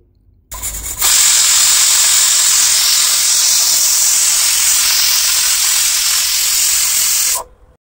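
A loud, steady hiss of steam blasting from a pressure cooker of boiled kidney beans, starting abruptly and holding constant for several seconds before cutting off.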